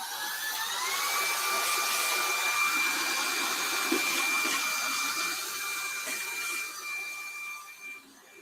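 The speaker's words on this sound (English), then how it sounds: "I just want the vacuum." A vacuum cleaner drones on steadily, a close, loud whirring whine with a sustained high pitch that dips and wavers near the end, with no one talking.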